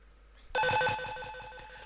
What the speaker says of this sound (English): Up next I've got this little computerized bleep sound.